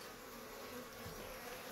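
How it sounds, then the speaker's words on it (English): Honeybees hum in a steady, soft, even drone inside an opened beehive, a faint continuous buzz with no voices. "Bees are being gentle."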